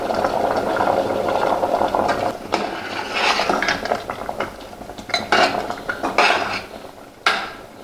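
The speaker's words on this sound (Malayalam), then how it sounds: "ഒന്ന് തിളച്ചോട്ടെ" Puzhukku, a vegetable stew topped with grated coconut, bubbling in a pot, with steady close boiling and scattered clinks and scrapes of a utensil against the pot.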